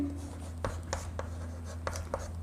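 Chalk or marker writing on a classroom board during a physics lesson on Coulomb's law: a series of short scratchy strokes in an irregular rhythm over a steady low room hum, close and moderately quiet, with no talk.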